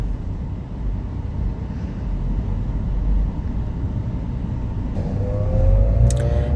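A car on the move, heard from inside as a steady low engine and road rumble that swells slightly toward the end, loud and continuous, with no talking.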